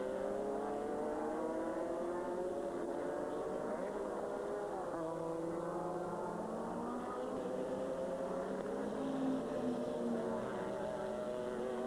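GT race cars from the 2000 FIA GT season run on the racetrack, a steady loud engine drone with rising and falling pitch as cars pass, filling the whole stretch.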